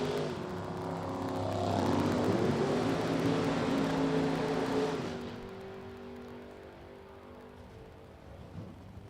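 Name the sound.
Chevrolet Monza drag racing car running in super gas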